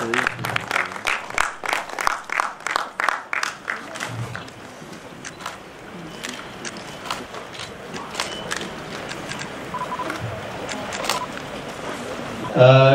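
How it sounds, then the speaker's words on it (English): An audience at the International Film Festival of India's Indian Panorama opening claps loudly in dense, rhythmic bursts, then settles into a softer, scattered wash of applause filling the hall, with a voice starting at the very end. "Could we have a round of applause, please, for Lakshmi?"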